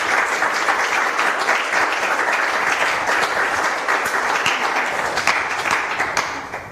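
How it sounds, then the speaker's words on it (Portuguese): A full audience applauding at an indoor music session, steady dense clapping from many hands that holds at an even level throughout. "Uma salva de palmas para o Micael."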